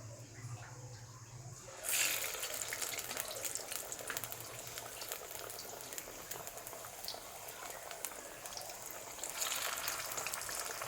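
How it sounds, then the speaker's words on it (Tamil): Spinach (palak) vadai drop into hot oil and burst into loud bubbling and sizzling that carries on steadily, with crackling spikes now and then against a quieter lead-in. "இப்போ இதை ஆயிலில் ஃப்ரை பண்ணி எடுக்கலாம்."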